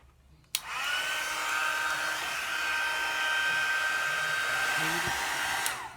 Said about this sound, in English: you're gonna need one of these, a heat gun.